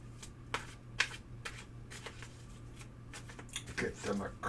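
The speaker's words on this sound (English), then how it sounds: "Get them a good old shuffle." Soft, irregular riffling and slapping of tarot cards being shuffled, close and fairly quiet, with a steady low hum underneath.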